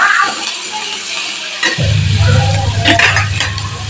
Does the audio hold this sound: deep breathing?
no